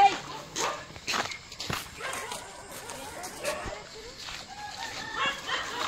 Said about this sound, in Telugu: అరే కుక్కలు ఇప్పుడు ఎందుకు కొరుకుతున్నాయి రా?